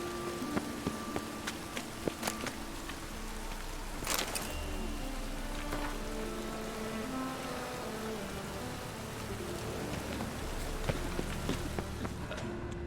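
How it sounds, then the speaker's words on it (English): Steady rain falling in The Witcher 3: Wild Hunt, a continuous patter with scattered drops ticking on surfaces, alongside faint low tonal sounds in the background. "It's raining again."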